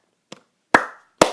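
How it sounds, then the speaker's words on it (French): Three sharp, close claps from hands: a light first one, then two loud, resonant claps a half second apart, in an otherwise silent room. "je vous applaudis"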